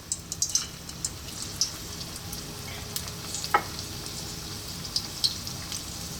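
Vegetable spring rolls fry in oil over medium heat, giving a steady soft sizzle with scattered crackles and pops throughout, fairly quiet and close with no talking.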